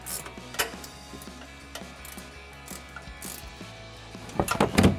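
A hand ratchet snugging 15mm nuts on a Rough Country 3.5-inch bolt-on suspension lift kit for a 2019-2023 RAM 1500 truck, clicking in steady quiet pawl ticks close by, ending with a louder clatter of metal parts.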